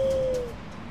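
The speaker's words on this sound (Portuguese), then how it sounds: "Cadê a coruja? Vamos chamar a coruja." An owl hoots in the game Far Cry Primal, a single soft, low coo heard close and then fading out, with no talking.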